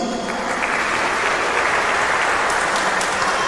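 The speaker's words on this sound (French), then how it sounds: "Bravo les jeunes, on va les applaudir." A church congregation at a Sunday Mass applauds the young people, a loud, dense, steady round of clapping that fills the space and continues throughout.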